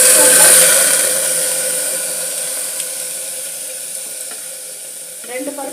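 Two kinds of lentils (dal) are washed together in water before cooking sambar. A near, rushing watery hiss starts loud and slowly fades, ending with a brief clatter.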